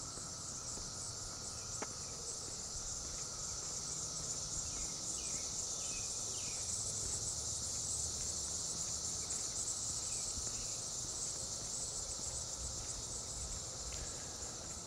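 A steady, dense insect drone fills the scene outdoors, continuous and fairly loud throughout, with faint bird chirps now and then.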